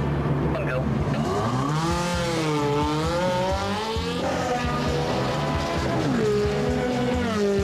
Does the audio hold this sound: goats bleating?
no